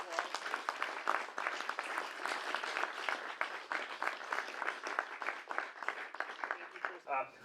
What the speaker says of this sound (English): Tristan Miller, let's give him another round of applause.